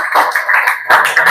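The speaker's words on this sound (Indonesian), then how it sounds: "Tepuk tangan untuk semua." Applause from an audience after a closing greeting in an Islamic religious-education teaching session, a brief burst of dense clapping lasting about a second and fading, then resuming at similar loudness.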